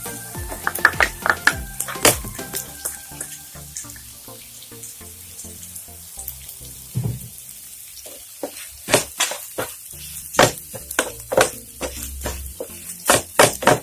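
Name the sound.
grated coconut being sautéed and stirred in a pan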